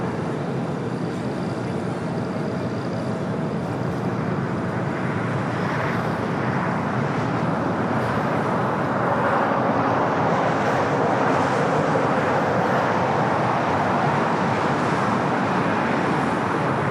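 A United Airlines Boeing 737-800 takes off from LAX, its broad jet roar holding steady and swelling slightly louder partway through, with no talk over it.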